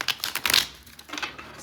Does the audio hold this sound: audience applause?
no